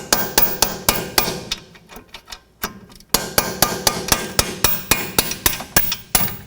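A camber adjustment bolt on a 2005-2010 Pontiac G6 is driven through with a hammer: a near, loud run of sharp metallic strikes, a brief pause, then a steady rapid series of blows, with no talking.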